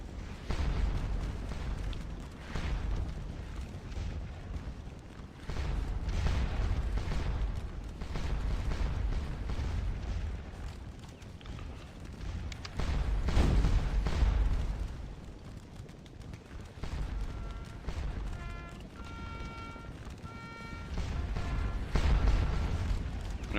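Cannon and artillery fire in the Napoleonic battle game Scourge of War Waterloo at Wavre, with repeated deep booms and rumbling blasts rolling in at irregular intervals over a continuous battle din, moderately loud and somewhat distant.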